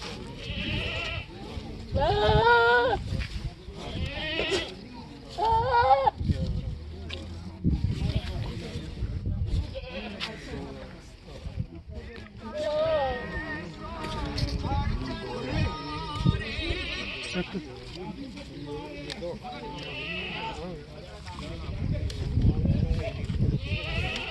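Goats bleat repeatedly in short, wavering cries at a busy village goat market, near and far, mixed with ongoing conversation among people.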